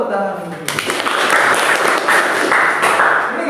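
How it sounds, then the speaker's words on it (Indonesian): A classroom of students breaks into dense applause after a brief stretch of a teacher's voice, the clapping swelling into a continuous wash that carries on under ongoing talk. "Betul, tepuk tangan."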